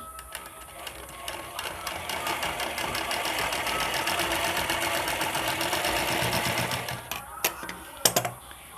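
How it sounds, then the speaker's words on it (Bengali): A sewing machine runs a steady, continuous stitch along a blouse hook strip at its maximum stitch length, close and fairly loud, then slows to a few separate clicks and thumps near the end. "আমি সর্বোচ্চ স্টিচ লেন্থ দিয়ে একটা সেলাই দিয়ে নিচ্ছি"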